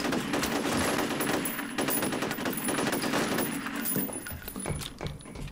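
Rapid automatic gunfire crackles in dense bursts during an ambush in the video game F.E.A.R., with shell-like metallic clinks mixed in; loud, continuous and close, with no speech.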